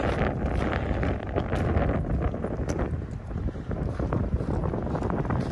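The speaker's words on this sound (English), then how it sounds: "It's like 42 degrees, but it's so windy." Strong, steady wind roaring and buffeting the microphone along the shore of a frozen lake at Big Bear, a dense low rumble with gusty surges throughout.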